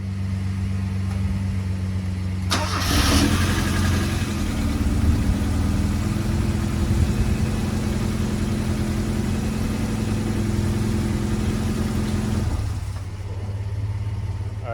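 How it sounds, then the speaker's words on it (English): A 1990 Mazda Miata engine cranks and catches, then settles into a steady, rumbling idle for several seconds before the revs drop off. A truck's exhaust idles in the background. "I'm sure you heard the Mazda startup"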